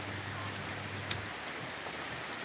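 Steady rain falls outdoors in the Philippines, a constant dense hiss of drops with no pauses, fairly close and even in loudness throughout.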